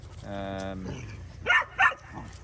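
A dog on a farm gives a drawn-out whining howl, then two short sharp barks, close and fairly loud, with a little background noise around it.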